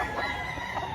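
Chickens cluck and crow in a dense, busy chorus at a poultry market in Lipa, Batangas, many birds close by and overlapping continuously.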